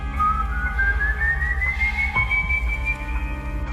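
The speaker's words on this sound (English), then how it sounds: "if you hear the faint whistle of do-re-mi while walking at night" A lone, eerie whistled do-re-mi tune in the night, a rising melodic line that climbs slowly in pitch, close and clear over a low rumbling background.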